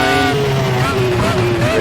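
Formula 1 car engine screaming up through the gears to seventh at over 300 km/h, a continuous loud high-pitched whine with rising harmonics that shift as gears change, steady throughout.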